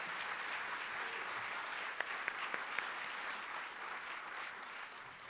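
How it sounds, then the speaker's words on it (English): Audience at a Kathak dance stage debut applauding warmly for several seconds, a steady wash of many hands with a few sharper individual claps standing out partway through. "A big round of applause for Srimati Radhika Kotwal."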